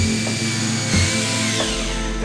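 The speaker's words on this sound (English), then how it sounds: "So if it works on the hammer drill." A hammer drill bores into an interior house wall, a loud steady whirring grind that shifts pitch partway through as the bit works into the wall.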